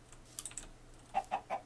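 Chicken clucking in the Minecraft video game, a few short, fairly loud clucks in quick succession near the end after quieter game sounds, with no talking.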